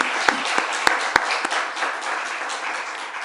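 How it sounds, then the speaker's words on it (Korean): A church congregation at an eighth-anniversary Sunday service claps in thanks to God. Dense, steady applause fills the room, with a few sharper individual claps near the start. "우리 하나님 앞에 감사 박수 한번 드릴까요?"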